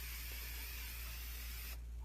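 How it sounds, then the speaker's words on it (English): Low-odor fixative spray hisses from a can onto a painting in a steady, close, continuous burst. The spray cuts off abruptly near the end, leaving a quieter room hum. "That's my fixative Blair, very low odor spray."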